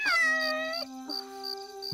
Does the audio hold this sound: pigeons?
no